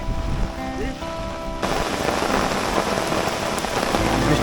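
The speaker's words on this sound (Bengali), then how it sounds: "প্রচুর বৃষ্টি হইতেছে ছাতার উপরে ঝুমঝুম করে বৃষ্টি হতেছে" Heavy rain drums on an umbrella in a flooded swamp forest, a close, dense roar that jumps louder after a quieter opening with a faint tonal hum and then stays steady.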